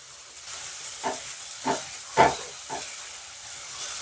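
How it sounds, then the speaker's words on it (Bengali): Mutton fat fries gently in a pan with a soft, steady hiss broken by several short, sharp sizzling bursts, one louder than the rest, and no talking. "আমি চর্বিটা খুব সুন্দর করে হালকা হালকা করে ফ্রাই করে দিচ্ছি"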